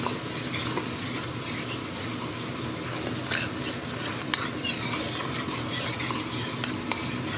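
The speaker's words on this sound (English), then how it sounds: "Be sure and scrape up all them brown bits you can." A spoon scraping browned bits from the bottom of a pot of stewing country-style beef ribs with garlic, a steady close sizzle and bubbling with repeated scraping strokes throughout.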